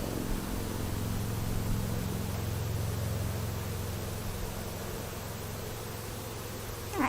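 Package bees buzz at an opened beehive, a steady low drone close by that holds evenly the whole time, with a brief sharper sound at the very end.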